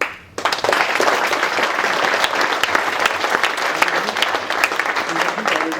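Listeners at a paris.py Python meetup talk break into sustained applause after a quiet moment, a thick, even wash of many hands clapping close by that holds steady to the end.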